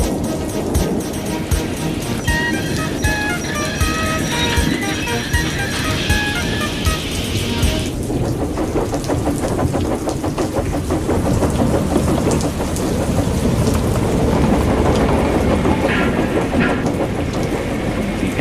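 Steady rain pours down without a break, a dense hiss of drops hitting surfaces, with low rumbles like distant thunder in a storm scene.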